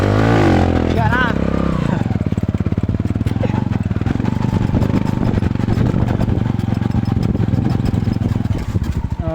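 A motorcycle engine idles steadily and loudly throughout, with a continuous low rumble and some clatter, while people talk over it.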